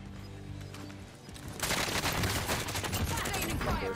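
Dense bursts of rapid automatic gunfire from the Warzone video game erupt after a quieter opening second and a half, then continue as loud, sustained overlapping shots through the end.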